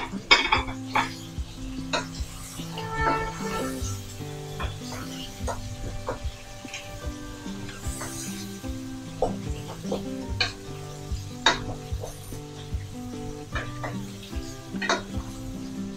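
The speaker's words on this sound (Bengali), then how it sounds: "ভালোভাবে নেড়ে চেড়ে কষাতে হবে।" Beef sautéed with coriander, turmeric and red chili powder for haleem sizzles in a pan while a utensil repeatedly scrapes and clinks against the metal, irregular stirring knocks over a steady frying hiss.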